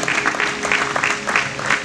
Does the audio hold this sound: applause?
yes